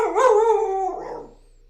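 A pet dog lets out a close, loud, drawn-out howling bark that wavers for about a second before breaking into a rough, fading yip, with no other sound around it.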